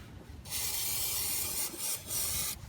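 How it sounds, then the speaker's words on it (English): A steady aerosol spray of rubber care product hisses onto a brake rubber boot on a Toyota Corolla in two close bursts, the first long and continuous, a brief pause, then a shorter blast. "I'm gonna spray it with some rubber care product"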